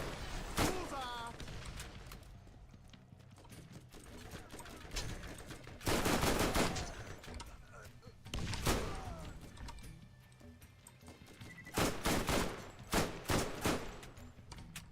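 SMG fire in the video game Borderlands, several loud rapid bursts spread across the stretch with quieter gaps between them, and a voice talking in places.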